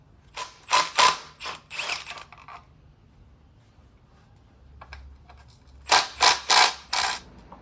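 A ratchet working loose the 19 mm starter bolts on a Volvo 740/940: two bursts of quick, sharp clicking near the mic, separated by a quieter pause with faint handling noises.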